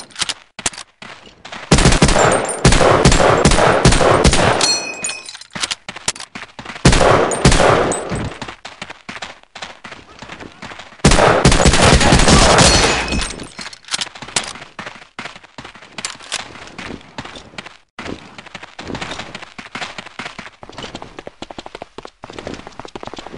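Heavy gunfire in Medal of Honor Allied Assault rattles in long automatic bursts and scattered single shots, loud and close, broken by short pauses and fading into sparser shots toward the end.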